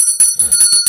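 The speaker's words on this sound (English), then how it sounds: "Ring the bell." A bright, bicycle-style bell rings in rapid repeated strikes, about five or six quick dings in under a second, loud and close with a shimmering high ring.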